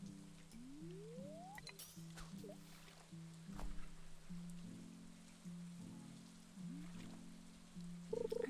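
Steady rain in the Stardew Valley farming game, a constant hiss of falling drops at moderate level, with in-game chimes and tones layered over it and no talking.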